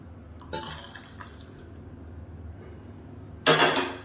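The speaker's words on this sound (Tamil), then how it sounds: "ரசத்தை சேர்த்துட்டு நல்லா அப்படியே மூடி வச்சிடணும்" Mutton rib rasam is poured into a vessel holding salt, giving soft liquid splashes and drips, then a louder, brief gush of pouring near the end.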